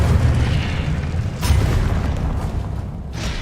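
A fire spell cast in the wizarding video game Hogwarts Legacy, a loud sustained roaring whoosh with deep booming rumble and a couple of sharper bursts, close and unbroken.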